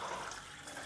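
Tap water flowing from an outdoor faucet in an old Italian town, a brief continuous hiss of running water close by, no voices.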